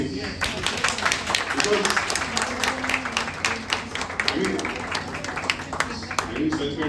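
An audience claps at a Government Medical College Akola department presentation on infraclavicular block, with steady crackling applause running throughout and a voice talking over it.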